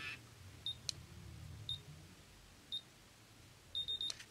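Short high-pitched electronic beeps from a curling iron sound at intervals, a few single and then a quick run of several near the end, over a low quiet background hum.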